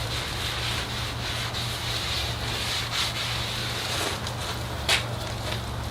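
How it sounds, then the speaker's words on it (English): A rag rubbed over a hot griddle plate set on a charcoal grill gives a steady, close scrubbing hiss over a low background hum, with a brief louder swipe near the end. "I'm going to put a little oil on a rag and rub it in here a little bit"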